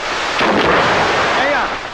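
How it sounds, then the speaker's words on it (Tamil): A firecracker goes off with a loud, close bang that spreads into a rumbling, noisy burst and lingers briefly as a rough roar. "இப்ப வெடி வெடிச்சதே அந்த சத்தம் கேட்கலையான்னு கேட்டேன்"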